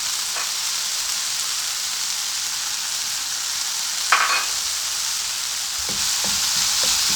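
Tomatoes and other spaghetti ingredients fry in a pan with an even, loud hiss of oil, then a few brief scrapes and knocks of a utensil near the end.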